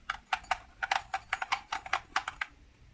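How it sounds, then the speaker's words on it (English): Small hard charms clatter and tick together inside a gift box in quick irregular bursts, close and fairly crisp, with no talking. "and the charms inside sound like this."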